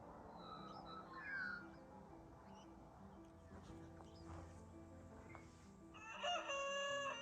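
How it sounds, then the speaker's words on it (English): Morning birdsong outdoors in high country off the grid in winter: faint chirps and calls over a low background, with a rooster crowing near the end. "there's nothing like listening to the birdsong out here in the mornings."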